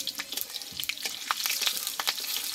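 Panch phoron spices with a bay leaf and a dried chilli crackle and spit in hot oil, giving sharp, irregular pops over a soft sizzle, close by, with no talking.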